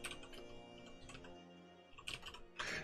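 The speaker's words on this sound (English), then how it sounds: "Turns out typing Baylor Hemlock into the archive" Typing on a computer keyboard during a tabletop game session, with quiet clustered key taps in short bursts, a pause in the middle and a few sharper strokes near the end.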